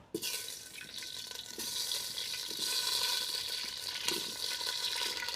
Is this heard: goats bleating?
no